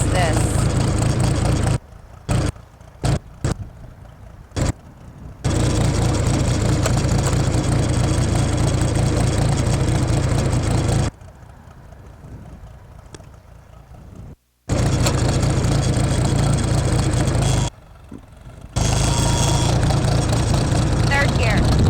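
A tractor engine drones low and steady while a first-time driver moves along, the rumble dropping out several times in short gaps; people talk over it.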